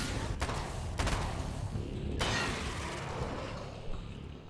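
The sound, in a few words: SMG gunfire in the video game Alan Wake's American Nightmare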